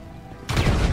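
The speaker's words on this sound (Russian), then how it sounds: "Походу убежал от гранаты." A grenade explosion in the video game GTA 5 bursts in loud and sudden after a quiet lead-in, its heavy rumbling blast filling the rest of the moment.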